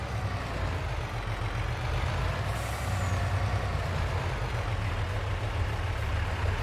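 Trucks in the farming game Farming Simulator 22 drone with a steady, low engine rumble, with a short airy hiss rising briefly partway through.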